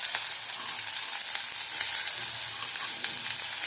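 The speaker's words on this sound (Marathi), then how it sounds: "ह्या सगळं ज्या भाज्या आहेत सगळं टाकून घेते कांद्यासोबत. ते आपण परतले जाते व्यवस्थित." Chopped vegetables sautéing with onions in a pan for fried rice give a steady, close, dense sizzle with faint stirring scrapes throughout, no talking.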